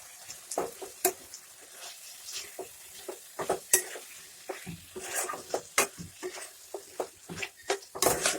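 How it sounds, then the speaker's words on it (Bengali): Chicken sautéing in a pan with cumin, coriander and ginger paste, with a soft sizzle under repeated sharp scrapes and clacks of a spatula stirring, irregular and close, with no talking. "এটা দিয়ে ভালো করে আরো ভালো করে কষাবো কিছুক্ষণ"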